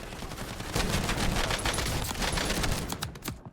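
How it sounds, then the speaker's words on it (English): Full-auto MX Guardian shotgun with dragon's breath rounds firing in Warzone: a loud, close, dense barrage of rapid blasts running for several seconds, then a few spaced final shots. "he's got a fire shotgun or something"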